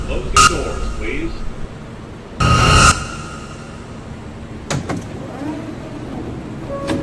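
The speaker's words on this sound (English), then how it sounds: "Stand clear of the closing doors" Doors of an A express train on the New York City subway closing, a loud half-second rush and thud landing amid lighter knocks and clunks, over steady carriage hum with people talking.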